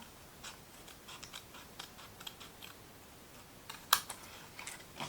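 Scissors snip through folded fabric or paper along the fold line while a pencil-marked pencil case is made, giving a quiet run of crisp, irregular clicks with one sharper snip near the end.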